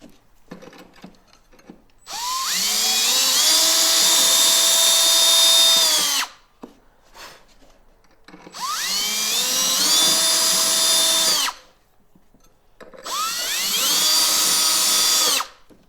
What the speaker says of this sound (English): drill right through